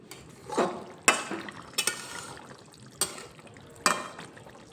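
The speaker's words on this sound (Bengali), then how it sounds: "দেখো একটু নেড়ে চেড়ে নিচ্ছি" A spoon stirring fish curry with potato and cauliflower in a pot, giving several distinct scraping knocks against the metal at irregular intervals over a soft bubbling simmer, close up with no talk.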